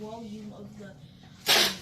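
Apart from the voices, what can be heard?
a sneeze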